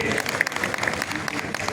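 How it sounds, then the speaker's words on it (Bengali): An audience at a journalism organization's formal ceremony claps together in a dense, steady round of applause that lasts the whole moment without fading. "একটা করতালি"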